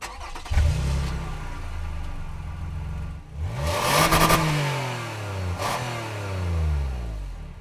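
A 2012 Toyota Highlander SUV engine accelerates while driving, rising through the revs, shifting with a brief dip, then pulling up again and settling; moderately loud and close, with no talking.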